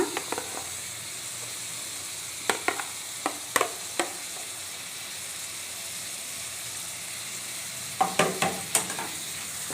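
Tomatoes get stirred into fried onions in a pan, a soft steady sizzle underneath with clusters of sharp scraping spoon strokes in two bursts, alone with no talk.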